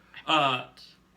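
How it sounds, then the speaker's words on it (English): A single drawn-out meow, loud and close, with a softer trailing cry just after. "did you just hear a cat?"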